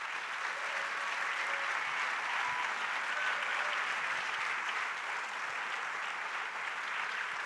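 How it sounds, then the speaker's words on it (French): An audience at a film festival opening ceremony applauds a filmmaker, a dense, even wash of clapping sustained at steady loudness throughout. "Vous pouvez lui faire un triomphe d'applaudissements"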